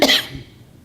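A single sharp cough up close, followed by a brief fading tail and quiet room tone.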